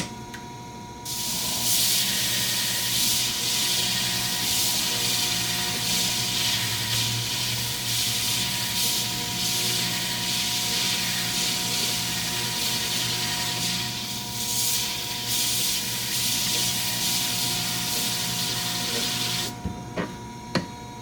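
A Sharpening Junior grinder works a blade for about twenty seconds, a loud steady abrasive hiss and whir with grinding dust, starting abruptly and stopping near the end.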